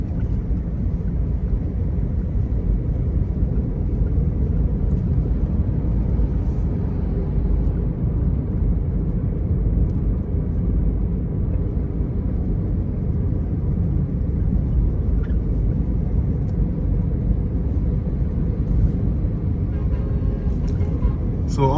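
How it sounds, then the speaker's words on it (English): A car drives along a road in Enugu toward Golf Annex, with a steady low engine and road rumble heard from inside the vehicle throughout, while a voice talks over it. "We'll be driving now to Gulf Annex."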